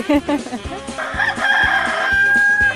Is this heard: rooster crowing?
yes